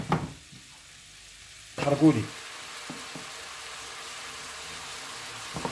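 Kefta meatballs sizzle in a pan as they are stirred, a steady low fry with a louder burst of scraping and crackle near the middle, then a quieter ongoing sizzle with a few soft knocks.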